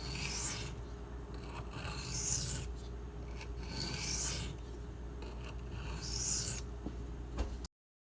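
A Spyderco Lil Native knife with Rex45 steel is drawn across a whetstone in steady alternating passes, each stroke a close, even rasping scrape, repeated in a regular back-and-forth rhythm with no talking.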